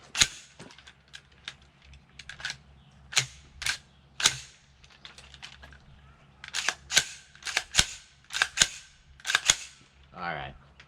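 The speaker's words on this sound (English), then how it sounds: "Yep, that was a reload." Sharp mechanical clicks and clacks of a gun reload in a video game, sounding in uneven bursts of separate snaps, fairly close, ending with a brief rattle.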